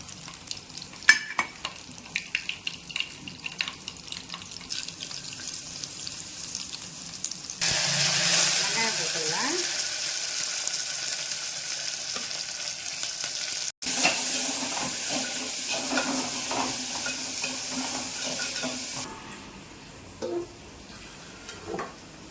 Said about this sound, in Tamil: கடுகு போட்டுக்கலாம் கடுகு நல்லா பொரிஞ்சதும் ஒரு ரெண்டு காஞ்சி மிளகா கட் பண்ணி வச்சுருந்தேன் அதையும் சேர்த்துக்கிறேன்